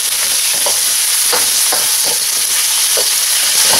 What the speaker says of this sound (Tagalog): So, lutuin lang natin itong calamares.